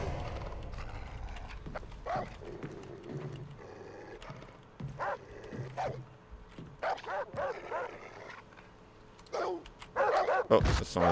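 Several dogs bark and yip in scattered bursts in the video game Far Cry 3, some sharp and loud near the end, over a low rumbling background with occasional thumps.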